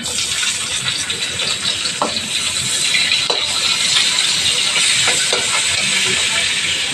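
Onions hit hot oil with cumin seeds in a pan and sizzle in a loud, steady, close hiss, with occasional crackles and a faint voice underneath.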